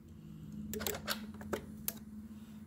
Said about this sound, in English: Now we hear all kinds of relays come on.